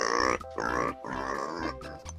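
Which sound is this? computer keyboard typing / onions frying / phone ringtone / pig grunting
pig grunting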